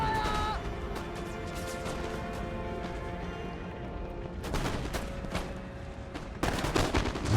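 Cannons in Empire Total War fire canister shot in a dense run of overlapping booms and crackling volleys, with sharper bursts of gunfire near the end, all under a constant rumbling battle din.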